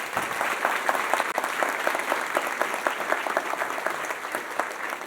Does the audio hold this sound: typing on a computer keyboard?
no